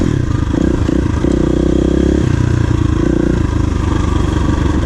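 A KTM 350 EXC-F dirt bike engine runs up close and loud at a trail riding area in West Point, Tennessee, with a steady buzzing idle that rises slightly mid-way and has a rattly mechanical edge, with no voices.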